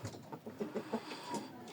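Pet chickens cluck in a quick run of short, rhythmic notes, near and fairly soft, against a low steady background hiss.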